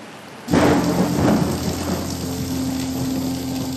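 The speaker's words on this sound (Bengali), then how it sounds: "এরকম বৃষ্টি চলবে।" Heavy monsoon rain pours steadily in a dense, loud wash, and a deep thunder rumble breaks in near the start and fades under the downpour.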